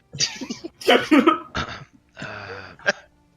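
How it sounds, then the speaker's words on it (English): A man clears his throat several times in a row, a string of rough, gravelly bursts with short pauses between, close and fairly quiet, ending in a final short rasp. "he's just clearing his throat"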